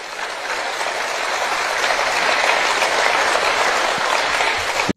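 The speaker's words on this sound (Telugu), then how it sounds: "చప్పట్లు కొట్టి జనాలందరూ జేజేలు పలికారు ఆయనకి." A large audience bursts into steady, dense applause for the speaker Garikapati, many hands clapping continuously and loudly for the full stretch before cutting off abruptly at the end.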